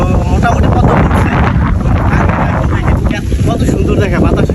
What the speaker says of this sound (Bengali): এখানে এসে আমরা পড়েছি ঝড়ের সম্মুখীন, অনেক বাতাস